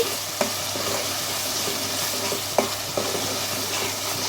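Spices stirred through hot oil in a pan for a soya meal maker gravy curry: a steady close sizzle with several sharp scraping strokes of the spoon against the pan.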